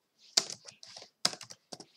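Quick bursts of keystrokes clatter on a computer keyboard, two short clusters of clicks, close and fairly quiet, with no talk.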